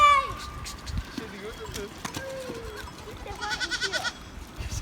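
Goats bleat in short wavering cries amid a busy outdoor scene, with people talking nearby and a rapid pulsing cry near the end.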